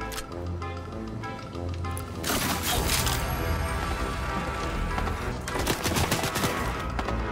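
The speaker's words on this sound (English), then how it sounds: "Someone's shooting me." Rapid automatic gunfire in Fortnite, dense continuous bursts of shots with a brief lull around the two-second mark, then sustained firing up close and loud, no talk over it.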